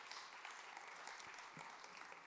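Audience applause during a Catholic talk on the Eucharist by a priest, a steady, fairly faint patter of many clapping hands that runs the whole time with no voices over it.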